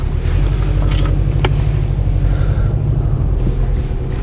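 A Subaru Forester SH with an aftermarket exhaust drones deeply while driving on the road, a loud steady low rumble mixed with wind buffeting against the microphone.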